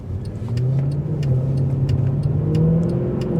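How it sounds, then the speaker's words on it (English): A Mercedes C63 AMG in Sport Plus mode accelerates on a dual carriageway, its engine note rising steadily and loud with a continuous building roar and faint ticking overlaid. "I'm going to put it in Sport Plus mode."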